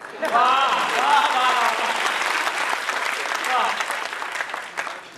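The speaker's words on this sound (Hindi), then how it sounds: "तालियां तो आपकी अब उठेगी।" An audience claps steadily through a Hindi poetry recital at a kavi sammelan, the applause running the whole time beneath a voice that speaks over it early on.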